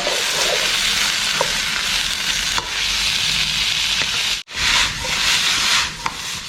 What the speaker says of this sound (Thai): ผัดผักของเราเนี่ยให้ยุบก่อนนิดนึงนะครับ